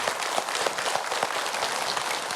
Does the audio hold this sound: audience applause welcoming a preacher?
yes